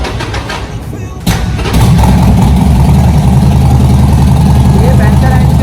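A 2013 superbike with its stock exhaust idles steadily and loudly up close, with a deep, even rumble after a brief start-up surge, while someone talks over it.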